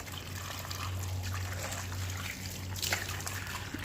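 Water trickling and splashing steadily while feet are rinsed after a quick car wash, with a low hum underneath.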